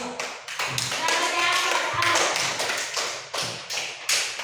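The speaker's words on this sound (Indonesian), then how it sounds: "tepuk tangan untuk kelompok 2" A classroom of students applauds group 2 after a lesson on plant parts, with dense clapping and sharp taps swelling into a steady burst, then thinning into scattered claps, with voices mixed in.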